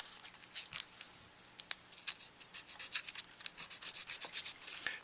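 Bass clarinet mouthpiece beak being hand-sanded with 320 grit sandpaper, a rapid series of short, raspy scratching strokes in uneven rhythm, close and fairly quiet, with no talking.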